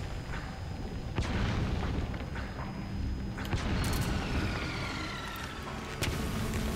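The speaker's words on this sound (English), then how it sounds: "People using mortars." Booming explosions from mortars landing during a Metal Gear Online 3 multiplayer match, several heavy blasts at irregular intervals over a constant rumbling battlefield background, with no talking.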